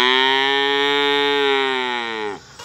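A calf lets out one long, loud, sustained moo after its mother, a milk cow, was sold. The call is close and tonal and trails off abruptly near the end, with no talking.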